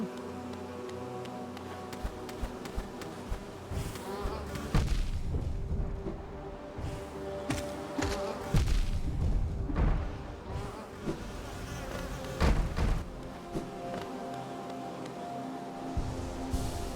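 Swarming bees buzz in the Hive of the video game Hollow Knight, with a dense droning hum broken by low booming thuds and irregular bursts, no talking.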